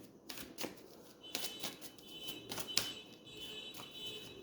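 A deck of playing cards is shuffled in a series of quiet, crackling riffles and flicks that come in short bursts, with no voices.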